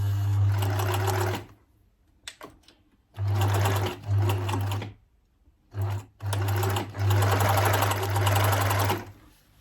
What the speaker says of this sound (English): this mechanical machine has no problem getting over all those layers